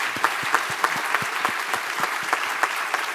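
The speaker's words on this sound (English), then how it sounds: "join me in one more round of applause for those great patriots" An audience at a commemoration of President Reagan's birthday applauds in sustained, even clapping, with a few sharper claps and thumps standing out at a steady beat over the dense wash.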